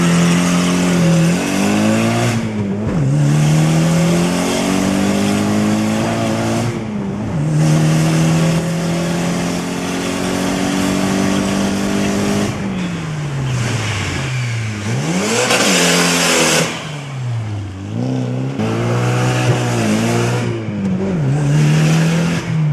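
An all-wheel drive Eagle Talon launches hard at a drag strip, its engine screaming up through repeated rising revs with sharp drops at each gear change, loud and close throughout.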